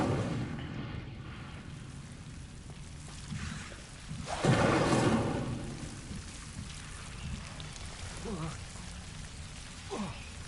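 Incendio fire spell cast in Hogwarts Legacy, a single whooshing flame burst around four and a half seconds that swells and fades over quiet ambient game sound.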